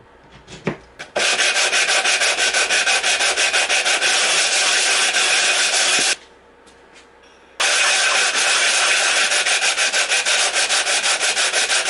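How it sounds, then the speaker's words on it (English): Steady, loud rasping of sandpaper worked across the top of a wooden box, a continuous scratchy stroke that runs for several seconds, pauses briefly, then resumes at the same intensity; no voices. "give it a good sanding"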